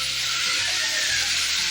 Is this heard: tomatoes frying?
yes